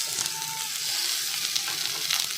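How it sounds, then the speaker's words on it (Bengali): Peanuts frying in hot ghee give a close, steady, bright sizzle with a faint crackle throughout. "এখানে আমি কিছু বাদাম ভেজে নেব।"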